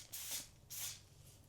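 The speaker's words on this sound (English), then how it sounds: "take my Even Lace Melt, and I'm going to spray it" Ebin Lace Melt lace spray is spritzed onto a lace wig closure in two short hissing bursts, close to the microphone, with quiet room tone between them.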